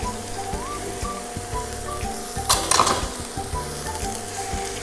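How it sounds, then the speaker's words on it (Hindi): Mushrooms and peas hit hot oil in a frying pan, a loud steady sizzle with a sharp crackling burst midway and clinks of a spoon stirring. "अब हम इसमें मशरूम डाल देंगे और 1 कप हम इसमें मटर डाल देंगे।"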